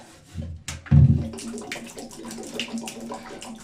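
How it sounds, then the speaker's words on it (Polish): Water is tipped out of an oak barrel being readied for alcohol. A sudden heavy gush and splash is followed by a softer, uneven trickle and slosh nearby. "Po 24 godzinach wylewamy z beki wodę."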